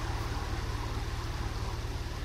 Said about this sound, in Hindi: मुझे पानी की आवाज़ आ रही है।